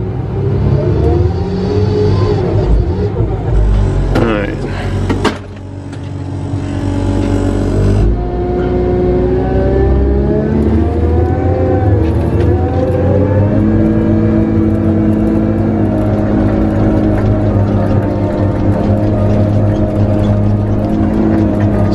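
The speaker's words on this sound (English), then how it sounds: "Seven-liter FPT engine is what this machine has in it." A Tigercat skidder with a seven-liter FPT diesel engine runs loud and close, a steady heavy drone with revs climbing and settling as the machine works, and a brief dip partway through.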